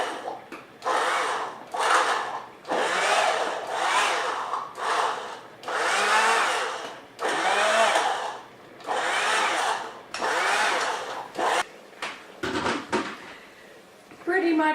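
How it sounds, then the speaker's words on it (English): Handheld electric mixer pureeing cooked kidney beans for family-style chili, its motor whirring in repeated loud bursts of a second or so with brief pauses between, growling as the beans break up. "That's why I use this hand mixer."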